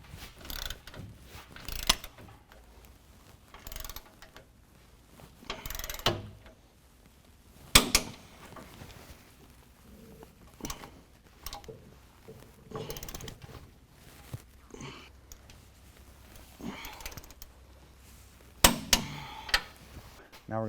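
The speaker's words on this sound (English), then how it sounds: "we're going to tighten these to 125 foot-pounds" A ratchet wrench tightens lift kit bolts to 125 foot-pounds on a 2016 Chevy Silverado 1500, giving scattered metallic clicks and clunks, with sharp knocks at intervals amid a quiet garage background.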